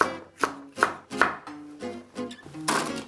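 A knife chops celery in a quick rhythm, with four sharp, evenly spaced strikes followed by a run of softer, closer-set cuts, all near and with no talk.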